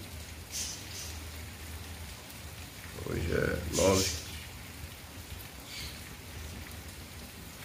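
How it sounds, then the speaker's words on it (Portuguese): Heavy rain falls in Fortaleza as a steady, soft hiss throughout, with a voice speaking briefly over it. "Muita chuva."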